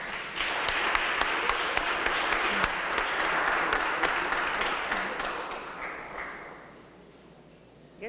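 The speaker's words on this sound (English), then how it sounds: "And give your families a round of applause" Audience applause for the families of graduating EMS cadets, a dense burst of clapping that holds steady for several seconds, then thins and fades toward the end.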